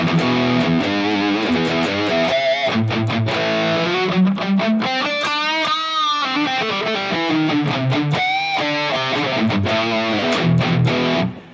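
A high-gain distorted electric guitar plays through a Mooer GE1000 multi-effects unit on its JCM-900 amp model, delivering chugging riffs and sustained, bending lead notes, loud and saturated.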